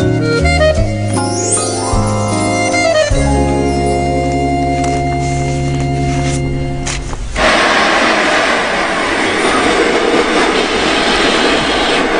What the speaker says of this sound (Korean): 창밖으로 보이는 하얀 들녘이 깊어가는 겨울을 느끼게 해줄 만큼 설렘으로 가득 찬 기차 여행입니다.